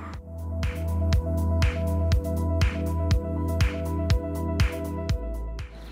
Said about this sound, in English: we're just going to mop it up good one more time